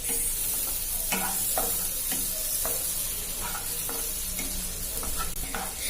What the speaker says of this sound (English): now we are going to be adding the finely chopped onions here. Let's add it in and give it a good mix.